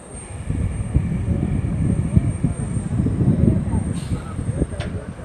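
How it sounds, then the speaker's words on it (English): A private jet arrives on its inaugural direct flight from the US, landing at an airport in Anguilla, with a steady loud engine roar and rumble close by on the tarmac. "As we can see, a private jet."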